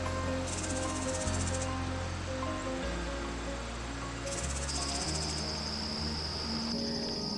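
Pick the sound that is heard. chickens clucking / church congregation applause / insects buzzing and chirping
insects buzzing and chirping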